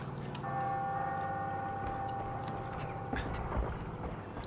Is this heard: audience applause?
no